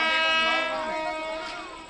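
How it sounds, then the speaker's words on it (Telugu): A train horn sounds at Warangal station as a long, steady, harmonic-rich blast that starts loud and slowly fades over about two seconds, with no talk over it. "హారన్ మోగింది"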